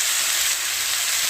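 Cumin seeds crackle and sizzle in hot oil for a methi matar malai tempering, a steady, close, bright hiss with no speech.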